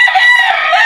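A rooster that has recovered from a cold and throat rattle after five days of treatment gives a brief, loud, close crow, with no other sound around it.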